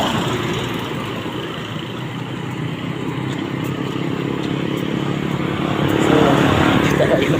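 Steady road traffic crossing a bridge, a continuous broadband rumble of passing cars and motorbikes with engine drone, swelling louder toward the end as a nearer vehicle passes.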